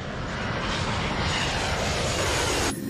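Loud, steady roar of an airliner's jet engines at takeoff thrust during the takeoff roll, a broad continuous rush that holds for nearly three seconds and then cuts sharply.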